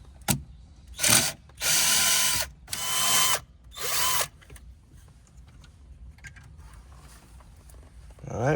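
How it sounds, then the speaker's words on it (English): A power drill backs out screws from a BMW E60/E90-series dashboard trim, running in four short bursts of whirring with brief pauses, close and fairly loud, then quiet handling noises afterward. "next up we need to remove these screws right here,"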